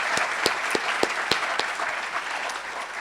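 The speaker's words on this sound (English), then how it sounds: "Let's all give them a round of applause." An audience at a Moorpark Chamber of Commerce State of the City event applauds the technical crew, with steady, full clapping and a few sharper claps standing out near the front.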